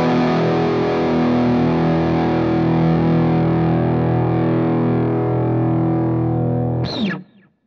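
An electric guitar chord rings through a Wampler Hot Wired v2 distortion pedal, a thick, sustained and evenly saturated tone that decays smoothly before a brief squeak as the strings are muted.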